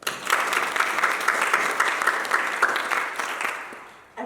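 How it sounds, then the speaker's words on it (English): Audience applause at an exhibition event on Korean comfort women: a dense, steady burst of many hands clapping for about four seconds, moderately close, then fading out abruptly near the end. "I would like to applaud her and thank her"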